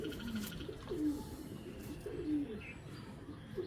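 A pair of Indian Chuina pigeons coo softly and close by, several low repeated coos over a quiet background with faint distant chirps.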